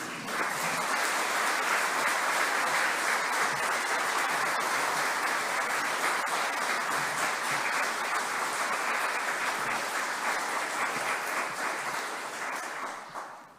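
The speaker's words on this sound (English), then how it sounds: "Can I ask our nominees please to stand up who are here with us and as well as being on us online virtually for a big round of applause, please." A large audience at a territory-level Australian of the Year awards ceremony gives the nominees a long, dense, steady round of applause that runs unbroken for over ten seconds before tapering off at the end.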